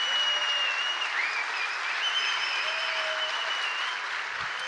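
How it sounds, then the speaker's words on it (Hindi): A congregation at a bilingual English-Hindi church service in Bandra, Mumbai, gives a dense, continuous round of applause, steady and evenly loud throughout with no speech over it. "Give your best clap offering to Jesus."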